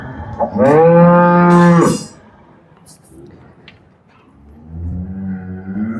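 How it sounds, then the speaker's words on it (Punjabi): A single loud, close cow moo rises and holds for about a second, then quieter lowing follows after a pause. "ਬਹੁਤ ਵੱਡੇ ਕੱਦ ਕਾਠ ਦੀ ਗਾਂ ਤੋਂ ਅੱਗੇ ਤੋਰਦੇ ਆ ਆਪਾਂ"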